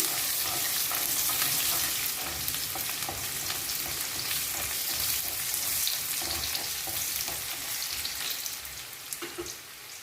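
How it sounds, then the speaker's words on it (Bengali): Chopped onions fry in a hot pan, giving a loud, dense, continuous sizzle with crackling spatter that eases slightly toward the end. "পেঁয়াজ কুচি পেঁয়াজটা একটু লাল লাল করে ভেজে নিচ্ছি"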